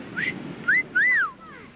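A person gives a short wolf-whistle-style pattern, a quick chirp followed by a longer rising-and-falling note, clear and fairly close, with no talking over it.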